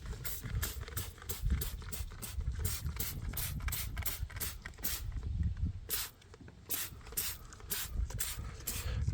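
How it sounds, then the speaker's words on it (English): Tyre leak-finder spray hisses in repeated short aerosol bursts onto a Fiat Doblo van tyre being checked for a slow puncture, close and fairly quiet, with brief pauses between sprays. "Not only is this going to try and find the fault, it will obviously give the tyres a good shine"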